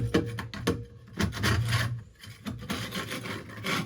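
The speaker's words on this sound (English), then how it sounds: "you got to scrape all the loose chunks off with this this big piece here, this big scraper." A big scraper rasps loose chunks off a surface in rough, repeated scrapes, close and fairly loud, with uneven strokes back to back.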